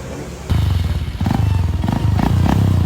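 A Honda XR 150cc motorcycle engine idles and revs in short bursts while being checked before sale, loud and close with a steady throbbing rhythm and no talking.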